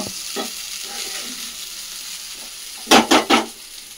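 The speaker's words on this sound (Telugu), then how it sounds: "ఫ్రైడ్ రైస్ అయితే సింపుల్గా ఇలా ప్రిపేర్ చేసుకున్నాను నేను" Egg fried rice sizzles in a pan under a steady frying hiss, close up, and three loud scraping stirs come near the end, with no voices.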